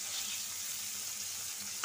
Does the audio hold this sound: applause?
no